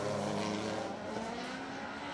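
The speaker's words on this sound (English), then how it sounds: "Mitsubishi Evo 3 firing flames out of the exhaust" A Mitsubishi Evo 3 rally car at a winter stages rally event on a circuit, engine roaring loud and close with sustained revving and crackling exhaust as it fires flames, steady and continuous throughout.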